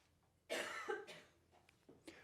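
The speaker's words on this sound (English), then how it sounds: "I have to cough a little bit" A single person coughs a few times in quick succession, close and fairly soft, with a brief rasp of throat-clearing at the end.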